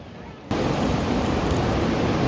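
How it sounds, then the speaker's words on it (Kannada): Sea waves roll in at Ganpatipule beach in Maharashtra: a sudden loud surge of broadband surf roar that stays dense and close, likely mixed with wind buffeting the microphone. "ಸಮುದ್ರದ ಅಲೆಗಳು ಹೆಂಗ್ ಬರತ್ತಾವು ಯಾವ ರೀತಿ ಬರತ್ತಾವ ನೋಡ್ರಿ"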